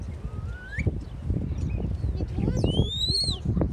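A flock of over a thousand birds sitting on a rail at Whitley Bay calls and coos continuously, with higher whistling notes rising above, while a person talks over the noise.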